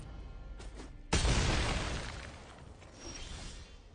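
Explosion effect in the MTG Arena digital card game: a sudden booming blast with crackling, shattering debris that decays over a couple of seconds, preceded by faint mechanical clicks.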